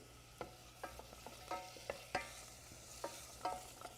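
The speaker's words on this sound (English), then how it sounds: "I'll stir that up with the sautéing vegetables" Vegetables sauté in a pan as celery seed is stirred in, giving a string of light scraping strokes from the spoon over a soft, steady sizzle, close and fairly quiet, with no talking.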